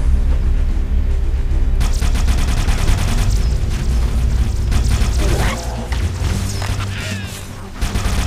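Needler rounds explode in the first-person shooter Halo: Combat Evolved, a loud dense burst of crackling booms and sharp smashing hits over a low rumble, tapering off toward the end.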